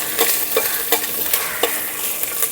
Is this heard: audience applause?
no